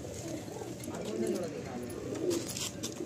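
Madrasi pigeons cooing softly in a loft, low murmuring calls layered close together under a man's speech.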